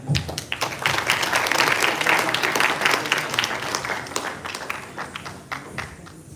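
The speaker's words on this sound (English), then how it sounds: "Now, with a huge round of applause, let's welcome Director LPSC ISRO, Dr. V. Na" An audience at a university event breaks into sustained applause, dense clapping that swells and then gradually thins out.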